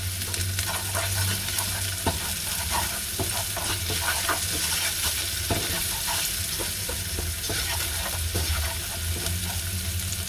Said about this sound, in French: on va rajouter le sachet de poudre des ramen et laisser colorer